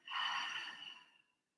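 A deep, slow exhale through an open mouth during a yoga breathing session, a soft breathy rush lasting about a second and fading out gently, heard alone and close.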